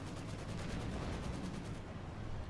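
Tank cannon fire and battle noise from the real-time strategy game Company of Heroes 2, with a Panzer IV engaging armour, forming a steady, dense rumble of distant gunfire and explosions heard faintly throughout.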